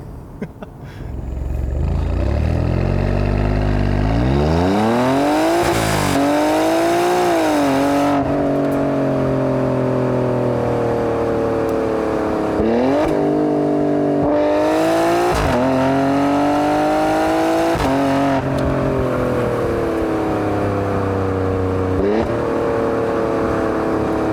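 A powerful engine of a 2019 Alfa Romeo Stelvio QV or Porsche Macan SUV revs repeatedly, climbing and falling in pitch through several throttle blips, loud and close with no talking.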